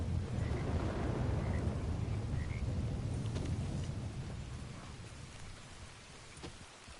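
Steady rain and a low rumble of thunder in a Red Dead Redemption 2 Online storm, a dense continuous wash of falling water that slowly eases off, with no voices.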